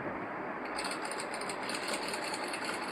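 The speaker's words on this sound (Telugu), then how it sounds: "నెక్ ఎప్పుడైనా స్లోగా స్టిచ్ చేయాలండి, లేదు అంటే నెక్ షేప్ అవుట్ అవుతుంది." A sewing machine stitches slowly around the neck of an Anarkali dress, giving a soft, steady mechanical whir with a faint rhythmic ticking, fairly quiet and close.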